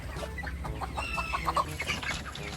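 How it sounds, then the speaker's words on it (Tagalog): Broiler chickens cluck steadily at feeding time, a busy flock heard close up with overlapping calls throughout and no talk. "Papakain ng mga alaga naming broiler."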